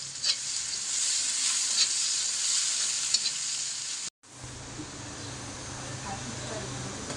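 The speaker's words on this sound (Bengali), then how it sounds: "মাছ ভাজা হয়ে গেছে।" Fish frying in hot oil in a pan: a loud, continuous crackling sizzle close by, broken by a brief cut, then a quieter sizzle that carries on to the end.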